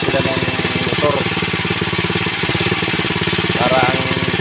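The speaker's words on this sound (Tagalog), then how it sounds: "Gumagamit sila ng motor" An engine-driven water pump runs steadily on a Filipino farm growing calamansi and bananas, its mid-pitched motor chugging in a fast, even rhythm close by without letup.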